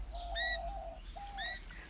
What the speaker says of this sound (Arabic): واللي فاجأني بالمكان كان موجود طائر الكوكتيل أو الكروان، جدا أليف